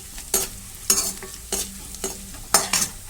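Onions fry in a pan for egg fried rice, a soft continuous sizzle broken by five or six sharp bursts of spatula scraping and stirring against the pan, close and without voices.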